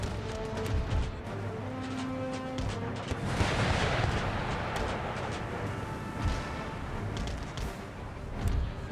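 Cannon artillery fires in an Empire: Total War battle between Prussian and French armies, with heavy booms and crashing impacts rolling over a dense battlefield din, the loudest burst coming in the middle.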